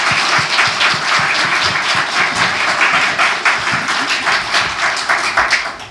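A Korean church congregation at a Sunday worship service in Atlanta gives the pastor a sustained, dense round of applause that fills the hall evenly throughout.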